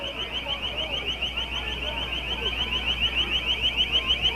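A piercing, steady car alarm or siren wails in a rapid warbling pattern at a chaotic street protest during the Ferguson unrest, loud and continuous under a low crowd murmur.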